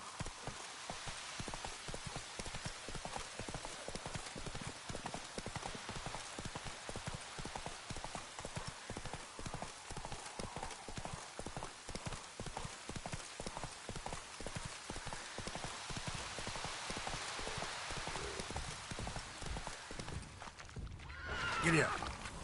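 Roach the horse galloping in The Witcher 3, rapid rhythmic hoofbeats pounding steadily for the whole stretch, with a brief louder burst and fading near the end.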